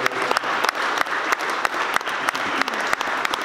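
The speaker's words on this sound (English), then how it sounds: "Give yourselves a round of applause for being here." An audience at an evening panel discussion on gentrification in Richmond gives a round of applause, continuous crowd clapping with sharp individual claps standing out near the microphone.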